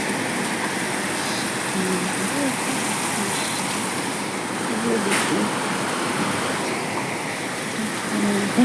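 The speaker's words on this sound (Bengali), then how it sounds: "জল বলতে পারি, সবসময় জল পড়ে।" Water pours down steadily in a dense, unbroken rush, loud and close, holding the same level throughout with no pauses or voices.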